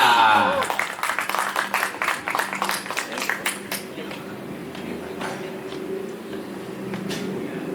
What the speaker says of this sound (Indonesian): Langsung saja beri tepuk tangan ini dia